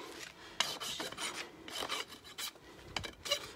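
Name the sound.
rasp filing a mini donkey's hind hoof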